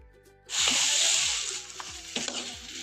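Spinach hits a pan of frying mutton with a sudden loud sizzle that carries on steadily, broken by a few stirring scrapes, with a faint tonal background underneath.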